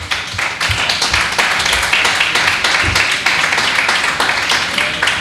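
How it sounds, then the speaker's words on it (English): Small audience applauding a guest, Richard Adams, at an arts and non-violence event in Rogers Park: close, lively clapping with distinct individual claps, sustained for several seconds. "a round of applause for Richard Adams"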